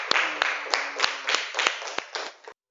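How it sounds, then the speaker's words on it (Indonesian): A group at an Indonesian Islamic study class on dhikr claps about nine times in sharp, evenly spaced beats, fairly close and clear, before the sound stops abruptly. "Buat tepuk tangan buat Rikjan."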